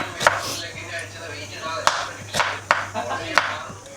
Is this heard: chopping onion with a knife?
yes